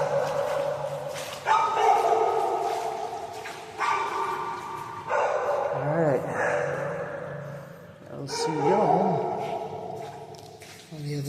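A territorial dog near a concrete culvert by a highway barks in repeated loud, close bursts with whining yelps between, while someone talks over the barking.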